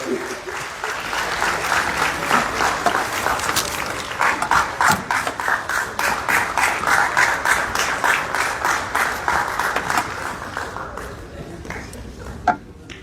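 A crowd applauds at a police closing ceremony, dense sustained clapping that stays strong for about ten seconds, then thins out and dies away, with one last sharp clap near the end.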